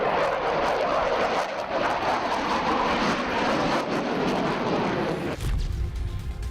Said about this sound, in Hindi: रफाल यानी वो लड़ाकू विमान जिसकी गर्जना से ही दुश्मन के पसीने छूट जाते हैं